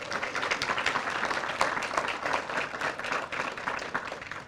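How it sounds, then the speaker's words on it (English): An audience claps steadily at a ribbon cutting ceremony for a community resource center, a dense, sustained round of applause with no voices over it. "And for them, let's give them a round of applause."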